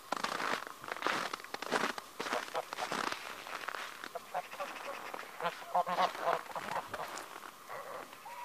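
Geese honk and quack repeatedly while chasing one another outdoors, the calls coming in irregular overlapping bursts at moderate distance with some human voice in the background.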